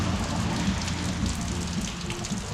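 Steady rain falls outside an open garage, a dense, even hiss with scattered drops and a low rumble, continuous and close, with no talking.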